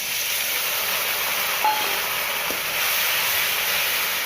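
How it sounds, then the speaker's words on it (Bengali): Ginger, garlic, tomato and green chilli paste frying in a pan, a steady loud sizzling hiss that holds through the whole stretch without any talk. "আদা রসুনটাকে ভেজে নেবো, যতক্ষণ না আদা রসুনের কাঁচা গন্ধটা এর থেকে চলে যাচ্ছে।"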